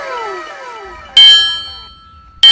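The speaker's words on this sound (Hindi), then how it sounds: "घंटी लग गवा" A school bell rings twice in a classroom, each sharp metallic strike ringing out and slowly decaying, with a fainter fading tone before the first.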